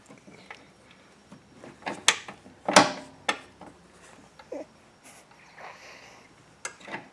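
Metallic clicks and scrapes of a 19mm box end wrench tightening a jam nut on a Perrin master cylinder brace in a 2002-07 Subaru WRX/STI engine bay, several close sharp clanks scattered among quieter handling noises, no talking.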